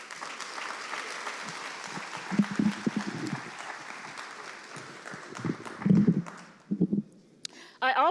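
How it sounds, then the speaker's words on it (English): An audience claps for cadets at a school back-to-school convocation, a continuous patter of many hands in a large hall that thins and breaks into a few scattered louder claps before fading out. "And let's give another round of applause to our cadets."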